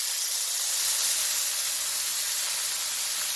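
A T-bone steak sears in olive oil in a hot pan, giving a steady, loud, continuous sizzling hiss with no talk.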